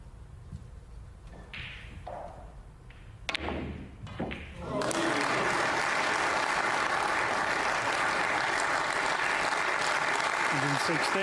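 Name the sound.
audience applause at a snooker match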